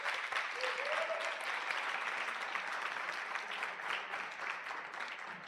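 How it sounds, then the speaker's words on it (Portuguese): Steady applause from an audience at a youth communication event in Brazil, sustained, even clapping throughout at moderate distance with a faint vocal whoop early on. "Salva de palmas."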